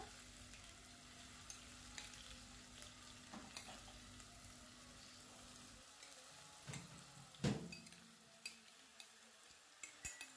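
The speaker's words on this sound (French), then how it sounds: "Mélangez et laissez rissoler pendant quelques minutes." Onions and sliced aubergine frying in hot oil in a pan, a soft, steady sizzle for the first half that thins out later, with a few sharp clinks and stirring scrapes near and quiet.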